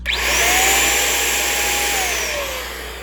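A small electric blower whirs at a steady high pitch, loud and close, for a few seconds, then winds down slightly at the end.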